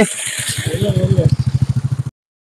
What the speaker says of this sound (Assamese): দাদা এজন আহি আছে, মানে বাইক লৈ আহি আছে